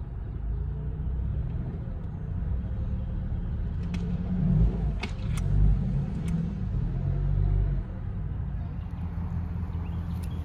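A car engine strains and revs in a steady low rumble while trying to pull a truck stuck in mud or soft ground about 20 feet in, with surges in the middle and a few brief clanks.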